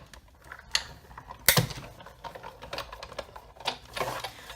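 A tabletop die-cut machine cranks a cutting plate sandwich through with a card globe die, giving a close, faint series of ratcheting clicks and mechanical ticks with one sharper snap early on.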